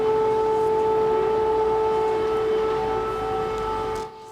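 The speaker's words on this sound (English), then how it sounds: "That is the sound of air sirens over the Ukrainian capital." Civil defense air raid sirens wail steadily over Kyiv, Ukraine, during Russian airstrikes, a loud sustained two-tone drone with no talk that cuts off at the end.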